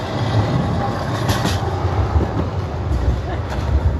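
Tram rolling along rails on a Polish city street, a steady close rumble with a faint rhythmic rail clatter running through the whole stretch.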